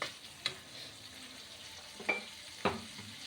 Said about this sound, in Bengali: এইগুলো মশলাটা কষাচ্ছি, নুন দিইনি এখনো